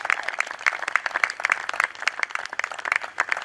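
A church congregation at a Christian gathering in the Democratic Republic of Congo gives a sustained round of applause, dense overlapping hand claps, loud and steady throughout with no speech over it.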